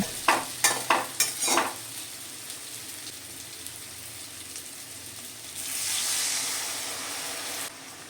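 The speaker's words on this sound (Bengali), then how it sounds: "এবার আমি এর মধ্যে দিয়ে দেব অল্প পরিমাণে জল" Water poured into a pan of thick, dried-down spice paste for a Bengali catfish and potato curry, giving a few sharp stirring clatters and then a broad, steady hiss of sizzling that swells and fades.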